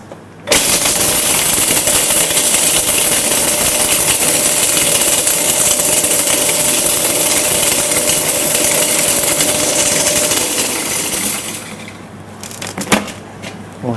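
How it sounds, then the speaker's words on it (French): A kitchen blender grinds praline in one loud, continuous roar for about eleven seconds, then winds down and stops with a few clatters. "Alors je vais au mixeur. Ça aussi, ça va très vite, hein, le mixeur."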